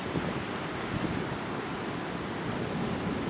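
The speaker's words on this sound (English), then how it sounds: "Came for a beach walk, but it's very cold and windy." Steady, loud, cold wind roaring across the microphone on a beach with a broad rush of surf underneath, continuous for the whole stretch and no voices.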